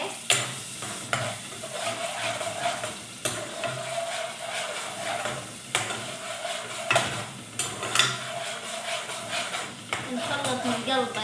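A burger mixture is stirred in a hot pan at a Dubai paratha-burger spot: repeated scraping strokes of a utensil over a constant sizzle, with occasional clinks of metal.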